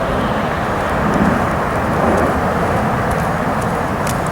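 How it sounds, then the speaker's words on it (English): An airliner passes overhead outdoors, heard as a continuous broad, loud roar with wind-like rushing that holds steady throughout, with no talking. "More sounds of an airliner."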